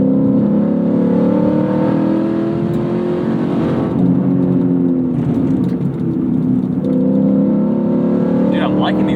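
A track-prepped Lexus IS F sports sedan engine winds down through several downshifts, with rev blips and falling tones, loud and close, with talking over the engine noise.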